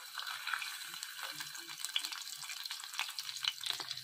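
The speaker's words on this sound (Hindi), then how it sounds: "पैटी फ्राई कर लेंगे" A burger patty fried over low heat in a little oil in a frying pan crackles and sputters faintly and steadily, with light scrapes and small pops close by.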